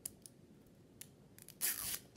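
A toy unboxing package is unzipped and torn open, with a few faint crinkling ticks followed by one louder, brief ripping burst close by, alone without talk.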